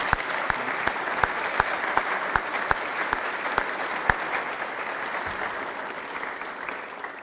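A press-conference audience gives a team a round of applause, steady crowd clapping with a few sharp individual claps standing out near the listener.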